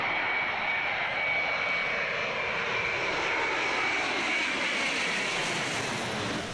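An airplane engine roars loud and steady as the aircraft passes overhead at sunset, a continuous broad drone with a slowly sweeping pitch and no voices.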